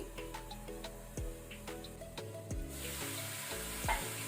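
Okra cooks under a lid on a medium flame with a soft, faint sizzle, joined by occasional light ticks and a steadier hiss toward the end.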